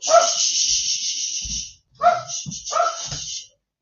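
An old 15-year-old female dog barks outdoors in a yard at night, giving a few loud, close barks and yips in two bursts separated by a short pause, with faint human voice in between.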